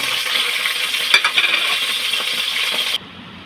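Tilapia dropped into hot oil, a loud close sizzle with crackling bursts and a metallic clink partway through, then the hiss cuts abruptly to a faint low background.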